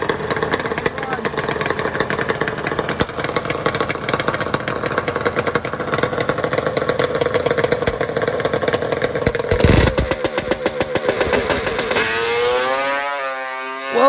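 A Kawasaki H2 750 two-stroke motorcycle makes a drag racing run, its engine a loud sustained buzzing roar that rises in pitch near the end, with an announcer talking over it throughout.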